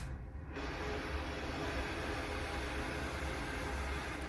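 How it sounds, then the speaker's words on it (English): An out-of-signal television gives off a loud, steady hiss of static. After a brief, slightly thinner moment at the start, it holds constant and alone with no voices. "I just found white noise here."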